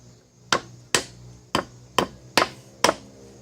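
Hammer taps on a Rough Country 6-inch lift kit part for a Chevy K1500, six sharp metallic strikes spaced roughly half a second apart, close and clear over a quiet background.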